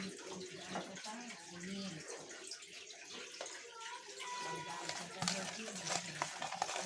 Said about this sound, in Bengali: মাছগুলোতে নুন হলুদ মাখিয়ে নিচ্ছি।